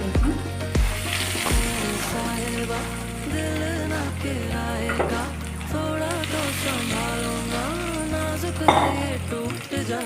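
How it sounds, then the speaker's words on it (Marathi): Poha and potato cutlets fry in oil, a moderate sizzle with occasional pan clinks running steadily beneath prominent background music. "तर आता हे दुसरा दाणा पण आपण तळून घेऊया"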